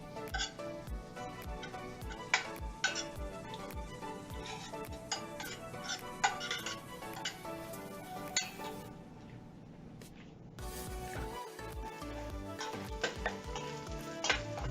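Garlic and onion frying in a pan, a steady soft sizzle broken by repeated sharp clicks and scrapes of a utensil stirring against the pan, with a brief quieter gap partway through.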